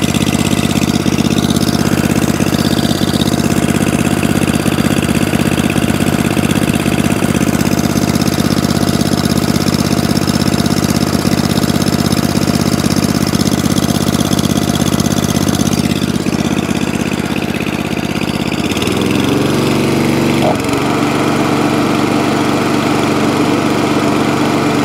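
An Atco Balmoral lawnmower with an Allett petrol engine idles steadily and loudly with an even droning hum, then the engine note dips and shifts near the end as the idle is adjusted.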